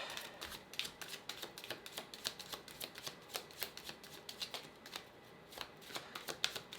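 Tarot cards being shuffled and pulled, a steady run of crisp riffling snaps and flicks close by, with a brief lull before the shuffling picks up again.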